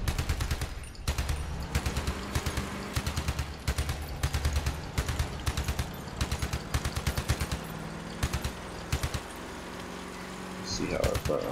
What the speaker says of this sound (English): did we already shoot your guns off?